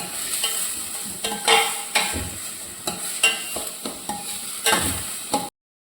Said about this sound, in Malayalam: നമുക്കിതൊന്ന് വാട്ടിയെടുക്കാമേ